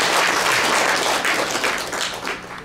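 A hall audience at a literary society's year-end evening applauds during guest introductions. The clapping is loud, dense and continuous, then tapers slightly toward the end.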